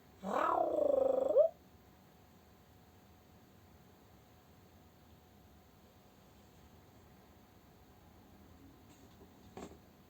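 A human voice imitates a cat's purring meow on a theatre stage: one loud, buzzing, voiced burst of about a second and a half at the start, then near silence with a faint click close to the end.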